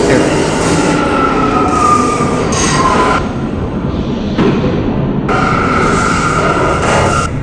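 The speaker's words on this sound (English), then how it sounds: "This is a Queens-bound F local train." A Queens-bound R179 F local subway train rumbles loudly on the F line, close by and continuous, with tonal motor whines and brief gaps. A recorded announcement voice speaks over it.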